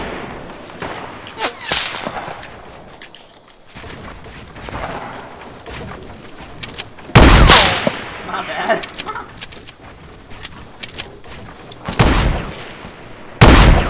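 Fortnite gunfire comes in sharp, loud, separate cracks and short bursts spread across the stretch, with quieter game sounds and some talk in between.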